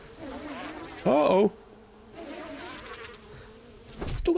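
Bees buzz in the survival game 7 Days to Die, a wavering insect drone close by with one sharp, louder burst in the middle, while a man briefly exclaims.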